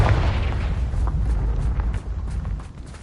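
A Confringo blasting spell explodes in Hogwarts Legacy, a deep rolling boom that fills the whole stretch, loud and close, slowly decaying with crackling debris on top.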